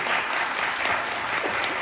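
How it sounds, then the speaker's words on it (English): Audience applause for a panel at an evening NORML Canada town hall in 2019: a steady, dense burst of clapping from a crowd, fairly close and continuous, with no talk over it. "give a round of applause to our panel"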